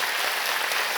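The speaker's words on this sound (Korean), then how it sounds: "여러분 크게 박수로 환영하시지요" Congregation clapping loudly to welcome visiting guests at a Sunday church service, a thick, continuous wash of many hands throughout one short second.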